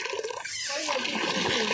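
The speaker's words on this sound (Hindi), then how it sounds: "पानी जोर से आसुची पूरा।" Water gushes strongly from a tap in a continuous, loud, broadband rush lasting the whole moment, with no pause.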